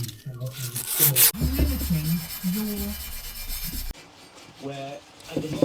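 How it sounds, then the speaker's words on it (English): Sandpaper rasps in repeated rubbing strokes against a GS motorcycle's metal centre stand, close and fairly loud, with a voice briefly audible around the scraping. "I spent the last hour probably rubbing down this centre stand"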